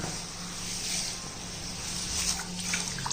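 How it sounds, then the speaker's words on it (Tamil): Water poured into a bowl of pearl millet, about one kilo of grain, making a steady close splashing and trickling wash that runs throughout at moderate volume with no voices. "இப்போ இந்த 1 கிலோ கம்பில் நம்ம தண்ணி ஊற்றிக்கிடுவோம்."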